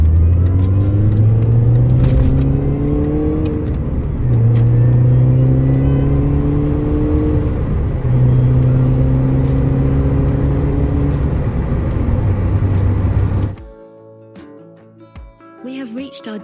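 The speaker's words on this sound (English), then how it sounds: "The supercharger makes the mini go zoom zoom." A supercharged Mini accelerates through repeated gear pulls, the engine rising in pitch in several long sweeps, loud and close from inside the car, then cuts off abruptly near the end, leaving quiet road noise.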